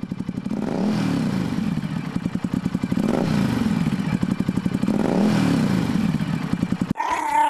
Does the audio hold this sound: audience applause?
no